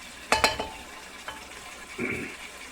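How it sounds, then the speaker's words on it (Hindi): Water added to a pot of browned potatoes and meat for aloo gosht: a couple of sharp splashy bursts, then a softer hiss as the liquid hits the hot pan, with quiet gaps between. "अभी हम शोरबा बनाने के लिए इसमें पानी ऐड करते हैं।"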